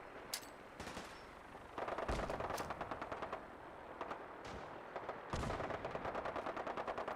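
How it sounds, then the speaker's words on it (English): Gunfire in the Fallout 4 video game: rapid automatic bursts rattle loudly one after another, with short gaps between volleys and a sustained stretch of fire near the middle and end. "Who's this shooting at these guys, huh?"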